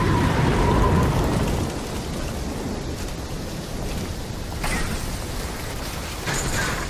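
Wind picks up during a storm in the video game Black Ops 3, a loud broadband roar that surges at first and then settles into a steady rushing gust with brief swells.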